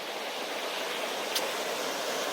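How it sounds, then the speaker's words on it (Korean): A mountain valley stream at Geumdang valley in Pyeongchang rushes in a steady, dense wash of water noise, close and even, with no voices over it. "굉장히 계곡이 아름답네. 어, 물소리도 아주 시원하고."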